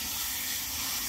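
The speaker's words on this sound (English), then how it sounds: "then I fill it with water, just enough" Water pours steadily from a tap into a pot being filled for canning, a continuous hissing, splashing rush heard close and alone with no talk.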